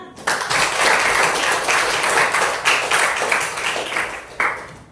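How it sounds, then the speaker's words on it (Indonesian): A classroom of Indonesian schoolchildren claps together, loud and close, a steady patter of many small hands that swells briefly near the end before stopping. "mari kita berikan tepuk tangan"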